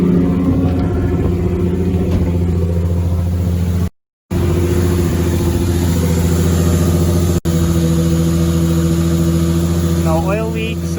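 A Nissan 350Z engine runs steadily at idle after starting, a loud continuous mid-pitched drone with steady harmonics and two brief dropouts, while a person talks faintly over it.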